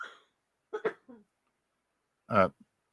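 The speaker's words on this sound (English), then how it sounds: "I don't know if that was coughing or sneezing" A single sharp, explosive burst, most likely a cough or sneeze, close by, preceded by a few short vocal sounds and followed by brief small noises.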